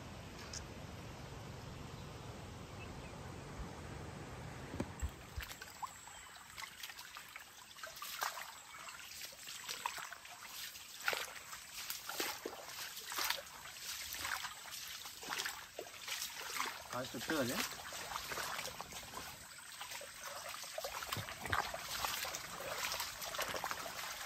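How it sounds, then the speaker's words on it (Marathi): A small village stream trickles and babbles around people standing in the water, a soft close dribbling with scattered splashy bursts. Under it runs a faint steady hiss, and a lower rumble is present only at the start. "आता आम्ही ओहोळामध्ये उभे आहोत."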